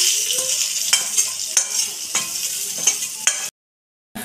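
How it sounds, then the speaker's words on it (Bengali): Whole cumin seeds, curry leaves and a dried red chili sizzling in hot oil in a wok, a steady close crackling hiss with scattered pops and sharp stirring scrapes, cutting off abruptly near the end. "কড়াইয়ে আবার তেল নিয়ে নিয়েছে, আর গোটা জিরে, কারি পাতা আর একটা শুকনো লঙ্কা"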